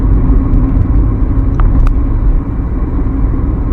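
A Rover 25iL car drives along a straight road, giving a steady, loud low rumble of engine and road noise throughout with no talking.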